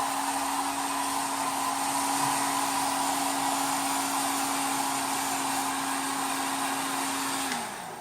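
A heat gun blows steadily on PVC pipe being shaped for a homemade slingbow, a constant whirring hiss with a fixed motor tone that holds for most of the clip, then spins down near the end.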